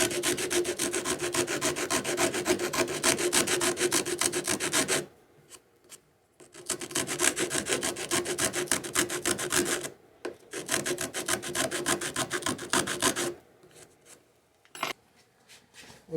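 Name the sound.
Riffler rasps filing wood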